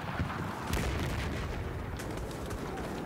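Rapid gunfire in the first-person shooter Battlefield 4, a continuous dense crackle of shots and booms filling the whole stretch at steady loudness with no pauses.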